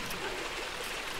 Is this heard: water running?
yes